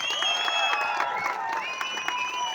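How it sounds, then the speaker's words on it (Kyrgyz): A crowd applauds at the opening of a fighting tournament in Kok-Jar, Nookat district, Kyrgyzstan. The clapping is dense and steady, with tonal sounds ringing above it. "лигасынын организатору Эрнис Абулакимовга катуураак кол чабуулар."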